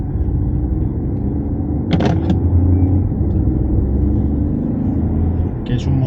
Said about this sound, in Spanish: a ese sonido del motor. Un motor que no sé si los micros puedan apreciar